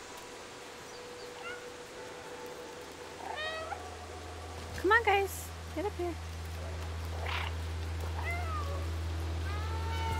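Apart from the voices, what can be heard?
cat meowing in the video game Stray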